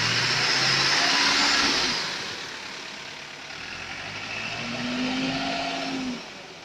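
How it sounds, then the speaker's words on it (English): A turbocharged car engine smoking heavily runs at a steady idle with a broad mechanical rumble and hiss, fairly loud and close, with a rising whine near the middle and end. "So I start the engines."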